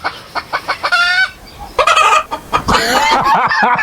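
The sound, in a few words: person imitating a clucking chicken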